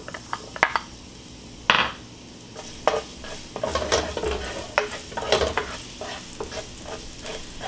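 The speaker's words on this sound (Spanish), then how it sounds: "Vamos a sofreír un poquito." Minced garlic with ground meat fries in oil in a pan, a soft sizzle broken by repeated scraping and clinking stirring strokes from a utensil against the pan, close and alone without talk.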